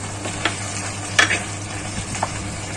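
Fried masoor dal badi being stirred into cooking greens (pahari saag) in a pan, with a soft sizzle underneath and a few distinct scraping strokes of the spoon, close and alone.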